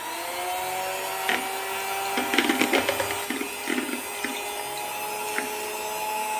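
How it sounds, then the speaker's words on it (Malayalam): An electric beater whirs steadily while beating carrot cake batter with egg and vanilla essence, its motor whine constant and close, with clustered clicks and clatters as the beaters knock against the bowl. "അപ്പം പെട്ടെന്നൊന്ന് ബീറ്റ് ചെയ്തെടുക്കാൻ വേണ്ടിയാണ് ഞാൻ ബീറ്റർ ഉപയോഗിക്കുന്നത്"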